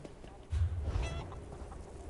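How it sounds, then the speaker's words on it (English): A demonic chicken in the game Elder Scrolls Online lets out a short honking squawk mid-clip, loud and close, over a faint ambient background with no talking. "It's because the demonic chicken has no fear."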